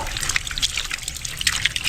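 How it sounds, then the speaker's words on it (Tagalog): Water leaking steadily out of a pipe, a continuous close trickling and splashing hiss that stays even throughout with no talking. "Maubos at maubos yung tubig na galing dito sa tubo."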